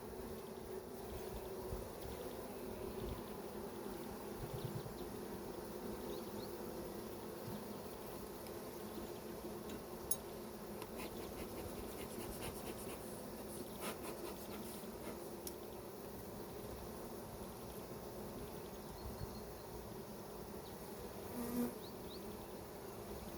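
Honey bees swarm over hive frames during a transfer from nucleus boxes into horizontal hives, their dense buzzing hum steady and close throughout with no talk.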